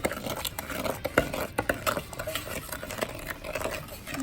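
A spoon stirs chocolate chip cookie dough in a bowl, giving irregular close scraping and soft thuds of varying loudness, with no voices over it.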